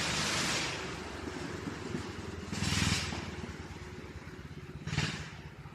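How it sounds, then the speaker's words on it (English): A small moped passes by outside, its engine buzz swelling and fading at a moderate distance, with a few clattering bursts of noise over a steady indoor background and no talking. "that's a little moped or some shit."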